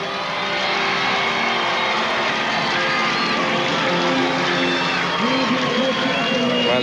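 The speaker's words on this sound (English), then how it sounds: "you can hear the crowd in the background" A roadside crowd at a Tour de France stage in the Pyrenees, 1999, makes a continuous loud roar of voices and motor noise, steady throughout with talk over it.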